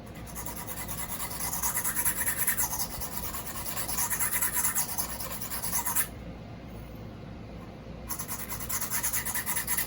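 A sharp tool thins out a shoulder with steady, close rasping strokes that scrape on and off, briefly easing before resuming at a similar level.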